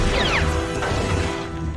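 Lightsaber combat from the Duel of Fates fight in an old Lego Star Wars video game brings loud crashing clashes and swishing swings packed into under two seconds over a busy, dense background.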